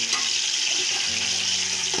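Chicken fries with browned onions in a pot for aloo chicken palao, giving a steady, close, loud sizzle that runs unbroken with no talking.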